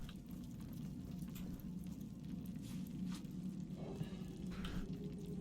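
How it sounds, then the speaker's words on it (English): Steady, soft rushing wash of a waterfall in the fantasy video game Divinity: Original Sin 2, a faint continuous splashing hiss with no voices over it. "Is that a waterfall?"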